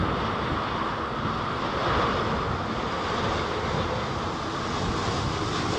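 Airliner coming in to land at Heathrow during Storm Isha, a steady loud broadband roar of engines and gusting wind with no gaps, heard from a distance outdoors.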